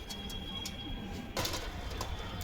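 A young Giribaz pigeon is released, with a brief flurry of wing movement in the middle over soft, steady background ambience.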